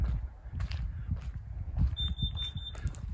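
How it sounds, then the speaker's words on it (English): A carbon monoxide alarm in a Zafira car camper beeps in a steady, high-pitched repeating pattern over low rumbling background noise, fairly quiet and close by. "if ever you wanted to know if my carbon monoxide alarm worked"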